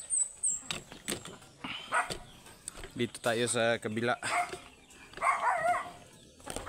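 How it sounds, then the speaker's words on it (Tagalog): A dog barks several times in short bursts while a person talks nearby, with birds or chickens faintly calling in the background. "Tinahol, umahol yung aso."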